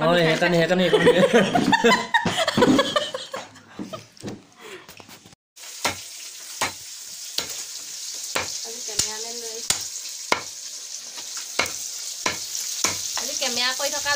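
Fish frying in a pan, sizzling steadily with sharp scraping stirs; people talk and laugh over it at first, then the crackle continues alone with repeated utensil clacks.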